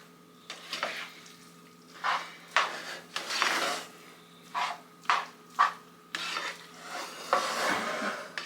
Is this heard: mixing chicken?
yes